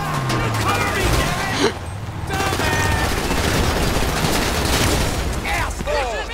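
Rapid gunfire bursts in GTA 5 vehicle combat, dense and loud, mixed with engine noise and booms, with several people talking and shouting over the action.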